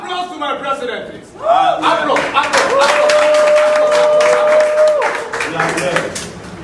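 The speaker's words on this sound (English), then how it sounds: "Applause to my president, please." Crowd at an outdoor political rally breaks into clapping and cheering after the speaker's line, with a voice carrying over the noise, bursts of applause rising and fading.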